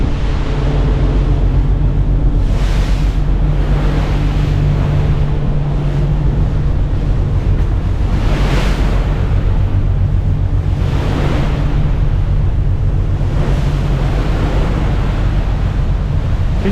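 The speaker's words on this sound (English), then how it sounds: "it's blowing a gale" Gale-force wind buffeting the microphone on a ferry to Gozo over choppy sea, a loud continuous roar with low rumble and periodic surging swells of wave wash, no voices.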